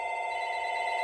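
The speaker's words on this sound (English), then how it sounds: "Sorry, phone's ringing." A telephone rings with a steady, bright electronic tone that holds for the whole second, loud and close, with no talking over it.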